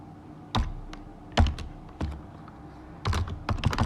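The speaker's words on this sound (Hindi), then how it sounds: "हम टाइप कर देते हैं printf" A computer keyboard is typed on in short separate bursts of clacking keystrokes, with a quicker cluster at the end, close and clear.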